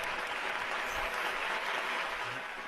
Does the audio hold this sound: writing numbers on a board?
no